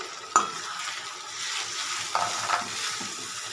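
Spice paste is stirred into onions frying in oil for a tomato and potato mutton curry, giving a steady close sizzle with a few sharp scrapes and knocks of the spoon against the pan.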